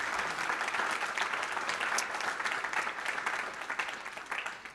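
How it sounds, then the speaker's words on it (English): Steady applause from an audience fills the whole stretch, a dense wash of many hands clapping that slowly eases off toward the end. "we want to give our panelists a round of applause"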